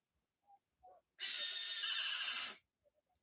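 A hyrax gives a few soft chirps, then a loud, harsh, horse-like chattering call lasting over a second, followed by faint clicks, heard close and clear against near silence.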